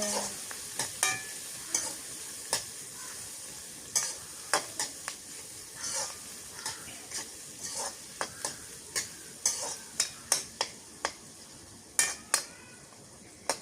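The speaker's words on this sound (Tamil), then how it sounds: "அடுத்தது போடுங்க இது கொஞ்சம் பொரிஞ்சு வரணும் இல்லை" Mustard seeds and spices for a Jaffna-style stingray fish curry crackle and pop in a pan, faint, sharp sporadic snaps over a soft sizzle that grow a little denser and louder toward the end.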